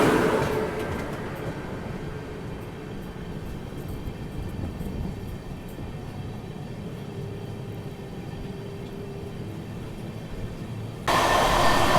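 Netaji Express rolling steadily with a continuous broadband rumble as it passes a halted Howrah–Amritsar train, the noise staying even throughout and swelling louder in the final second.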